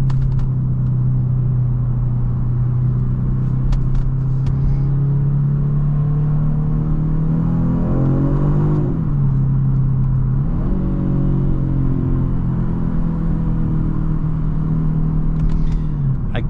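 A 2023 Genesis G70 accelerates in comfort mode, its engine note climbing steadily in pitch, then dropping at a gear change and rising again under a continuous road rumble, close and loud throughout.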